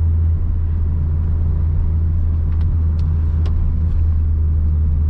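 A manual car's engine rumbles steadily and loudly from inside the cabin while creeping through stop-and-go traffic at a red light, with a few faint clicks over it.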